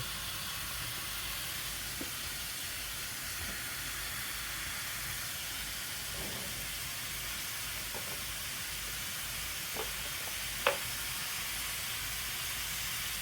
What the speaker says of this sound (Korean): 한번 볶아줘 볼게요